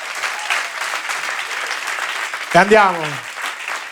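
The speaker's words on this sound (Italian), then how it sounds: "Applauso." Studio audience applause fills a comedy talk show set, steady and broad, before a voice cuts in over its fading end.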